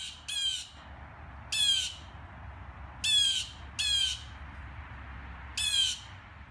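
A pet blue jay squawks in five separate harsh, raspy bursts spaced about a second apart, close and loud over a low steady background hum.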